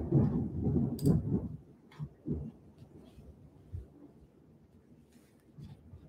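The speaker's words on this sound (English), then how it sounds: "That thunder startled the shit out of me." Thunder during a storm that cuts in suddenly: a heavy, low rolling rumble that is loudest at the start, then fades into a quieter, uneven grumble with no voices.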